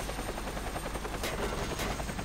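A video game helicopter drones steadily and loudly with a dense rotor chop, and faint sharp gunshot-like cracks sound over it.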